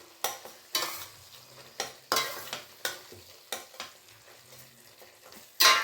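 Tomatoes softening and frying in oil in a pan for tomato gojju, with a spoon repeatedly stirring and scraping in a steady rhythm over a soft, continuous sizzle, close by and moderately loud.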